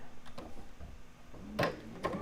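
A sewing machine chain-piecing quilt pieces runs in short bursts, with a low mechanical whir, faint rhythmic needle ticks and a couple of sharper clacks from handling the fabric.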